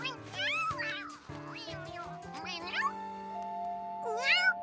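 Cartoon cat in a French animated children's series meows several times in rising, warbling calls over a steady musical background, with no one speaking.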